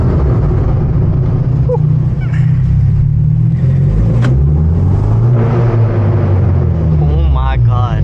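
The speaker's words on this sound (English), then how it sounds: "Put the windows down so you guys can hear the exhaust." A manual Hyundai Genesis Coupe on a night drive in heavy rain, windows down, rumbles through its exhaust with low revs rising and falling, loud and close, and a voice speaks near the end.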